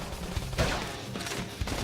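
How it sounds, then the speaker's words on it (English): Rapid bursts of gunfire in Xenoblade Chronicles X Definitive Edition crackle over a dense, steady wash of battle noise, loud and continuous with no speech. "Topple them with gunfire."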